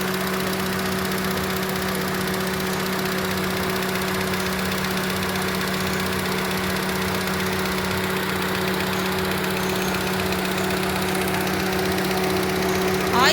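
A 2006 Honda City ZX petrol car engine idles steadily with a constant hum and a faint ticking knock, heard close up with no talk and no break in the sound.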